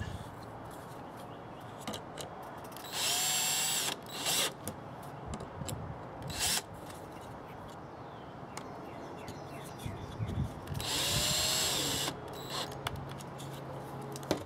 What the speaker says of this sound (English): just screw the whole thing together with short screws